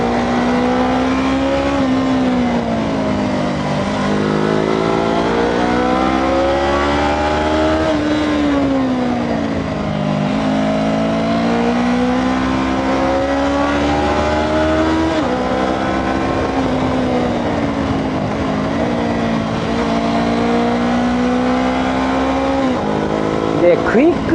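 Honda 400X motorcycle ridden on a winding mountain road, its engine droning steadily and loud up close, pitch rising and falling in long sweeps as the rider rolls the throttle on and off through corners, continuous with no talk.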